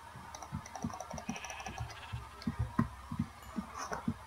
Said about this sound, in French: il y a un mouton, là-bas